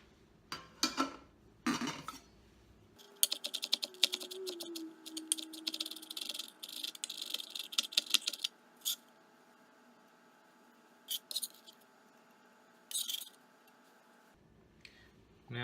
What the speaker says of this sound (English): We'll start with the onion. And we want to mince it.